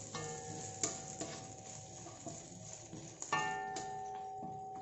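Onions and garlic stir-frying in a pan for Hong Kong-style nasi goreng, a steady close sizzle with occasional scraping knocks of a spatula against the pan.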